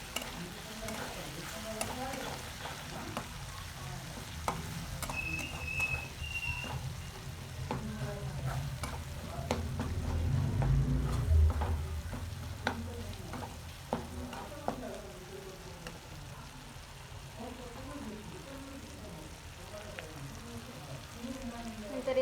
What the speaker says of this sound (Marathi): आता याला चांगल्या प्रकारे हलवून घेऊया.